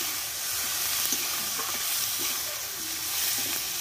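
Tomatoes and homegrown coriander leaves sautéing in a pan for a Bengali-style tomato bharta, a soft continuous sizzle with occasional light stirring taps, fairly quiet.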